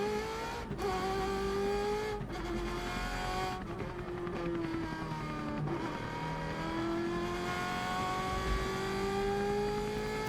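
A qualifying race car running a lap, its engine revving up through rising pitch sweeps with brief drops between gears, steady and fairly loud throughout.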